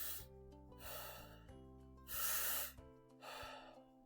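A saxophone teacher draws several short, shallow breaths close to the mic: quick airy inhales and exhales in an uneven rhythm over a faint steady hum, with no speech.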